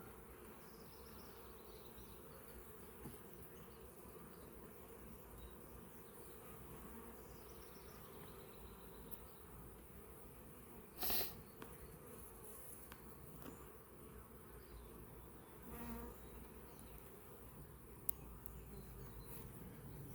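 A steady, dense hum of many honey bees buzzing close by around a hive, continuous throughout, with a few brief clicks and bumps.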